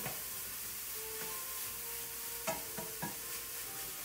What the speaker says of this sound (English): Egg whites, turkey, delicious. We're going to push that around in there until it's cooked up.